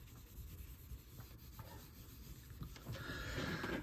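A signed copy of The Possum #5 comic book cover being rubbed to dry-clean off dirt: a close, steady gritty scrubbing that grows slightly louder and more abrasive toward the end, with no talking.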